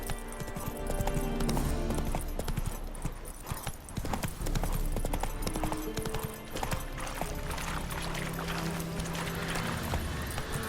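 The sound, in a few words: horse galloping in video game The Witcher 3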